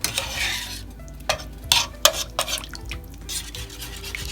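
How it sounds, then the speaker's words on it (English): A utensil stirring tomato gravy and scraping the bottom of a pan on the stove, with irregular scrapes and clinks over a faint sizzle, close and fairly loud. "you're just going to keep stirring this, scraping the bottom"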